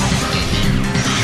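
A heavy hit impact effect from the Pokémon Battle Revolution video game, a dense, loud crashing smash that fills the short moment without any speech over it.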